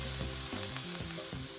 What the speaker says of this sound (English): you can hear it just sizzling very slightly in there